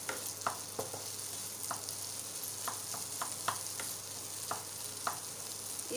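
Potato bhaji frying and being mixed in a pan, a steady soft sizzle with scattered scraping taps of the spoon against the pan, quiet and close, no voices.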